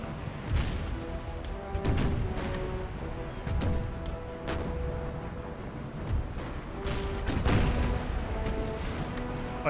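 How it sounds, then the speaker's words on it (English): Ship cannons fire round shot in an Empire Total War naval battle, with repeated deep booms at irregular intervals that blend into a continuous rumble of distant and nearer broadsides. "Fire a round shot actually, just straight into her stern."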